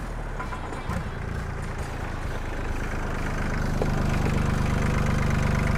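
An Iseki TL2500 tractor fitted with a 30 hp replacement engine idles with a steady low chugging drone that grows slightly louder and fuller partway through, heard close without talk.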